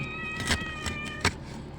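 A cat gives three short meows in quick succession over a steady humming background.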